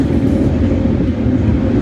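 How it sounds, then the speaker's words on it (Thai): A train pulls into a station in Vancouver, a loud, steady rumble and roar filling the short stretch with no voices. "วันนี้ถือว่ารถไฟมาเร็วนะเนี่ย"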